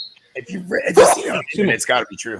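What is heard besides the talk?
sneeze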